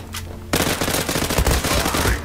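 MAC-10 submachine gun firing in a video game: a sudden loud continuous burst of rapid automatic shots lasting nearly two seconds after a short quiet lead-in.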